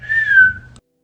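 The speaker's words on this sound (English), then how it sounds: "give a little whistle." A single short whistle, a clear human tone that glides slightly downward for under a second, then cuts to silence.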